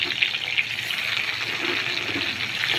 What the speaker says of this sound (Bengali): এক একটা করে বেগুনগুলো দিয়ে দিব